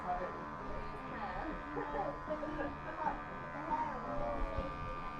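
Electric hair clippers fitted with a number 2 guard taper the hair upward from the bottom of the earlobe, giving a steady close buzz with small shifts in pitch, under a background of talk.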